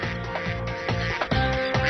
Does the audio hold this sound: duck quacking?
yes